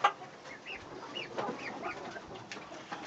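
Chickens cluck and a young rooster calls on a farm during chores, several short rising cries over a faint, steady outdoor background.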